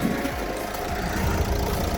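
A 2009 Renault Grand Scenic 1.5-litre diesel engine, about 300,000 km on it, idles steadily and close by, a low continuous rumble with faint knocking texture and no voices.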